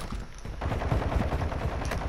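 Rapid automatic gunfire in the Call of Duty video game, loud and close, with a dense run of shots that carries on for about two seconds.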